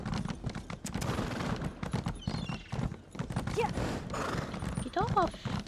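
Horse hooves clip-clop steadily in Elder Scrolls Online, with a couple of short neighs and whinnies breaking through near the middle and end, while a person talks over the galloping.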